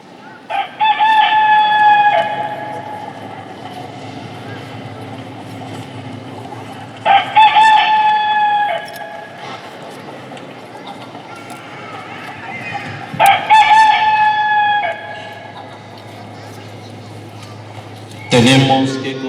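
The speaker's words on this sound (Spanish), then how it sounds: "un gallo cantó." A rooster crows three or four times at intervals of several seconds, each cock-a-doodle-doo loud and ringing over a quiet background, during a Holy Week arrest-of-Jesus reenactment in Guanajuato, with a voice speaking between the calls.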